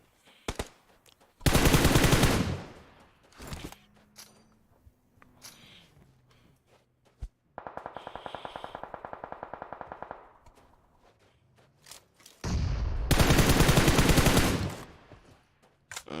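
Gunfire in an esports battle royale video game match: two long, loud bursts of automatic fire, a shorter rattling volley in between, and scattered single shots and footsteps, with no talk over them.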